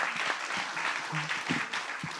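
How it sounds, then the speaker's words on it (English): Audience applause for a panel speaker at a literary discussion, brief steady clapping with a few low voices murmuring underneath. "round of applause for Tara"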